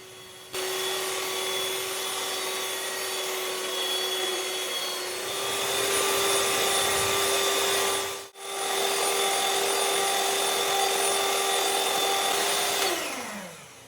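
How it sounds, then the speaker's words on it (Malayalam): An electric hand beater whirs steadily through banana cake batter, a loud continuous motor hum that dips briefly near the end before winding down. "ഇനി ഇത് നന്നായിട്ടൊന്ന് ബീറ്റ് ചെയ്തെടുക്കാം"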